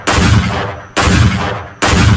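Three heavy gunshots from a sniper-style rifle in a Wild West video game, each a loud booming crack with a long decaying tail, evenly spaced about a second apart with no other sound.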